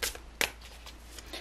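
Tarot cards are handled and shuffled up close, giving a short run of papery riffles and slaps, one sharper flick standing out, with no speech over it.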